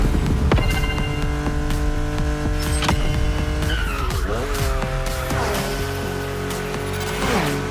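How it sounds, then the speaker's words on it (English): Car drifting on winding mountain roads in Hawaii in The Crew Motorfest racing game, with a sustained engine roar, rising tire squeal and skidding through the turns, loud and continuous over the game's music. "Drifting is the best way to take sharp turns without losing speed."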